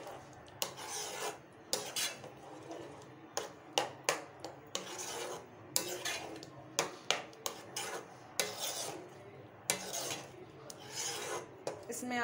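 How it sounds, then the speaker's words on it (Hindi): Spoon scraping and stirring gravy in a pan while it roasts for soybean malai curry, rhythmic rasping strokes repeating steadily and close, with faint sizzle beneath and no talk. "जब तक इसमें अच्छा सा कलर नहीं आ रहा तब तक हम इसको भूनते रहेंगे, ग्रेवी को चलाते रहेंगे"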